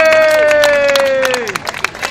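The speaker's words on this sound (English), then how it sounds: "So have a round of applause for Steve." An audience at a Blackpool dance show claps and cheers loudly for a performer, with a sustained high tone sliding downward over the dense clapping.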